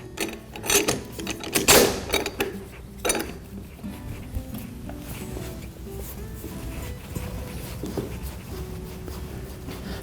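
Wooden parts for a sculptured rocker's sleds are clamped together, producing a few loud metallic clinks and ratcheting clicks early on, then quieter scattered taps and handling noises.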